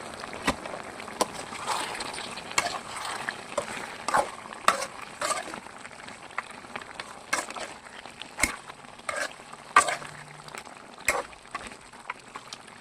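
Fenugreek chicken being stirred in a cooking pan, with a soft sizzling bed under irregular scraping and clinking strokes of a utensil against the pan, close and moderately quiet.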